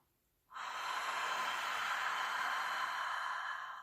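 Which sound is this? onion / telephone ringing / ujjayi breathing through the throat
ujjayi breathing through the throat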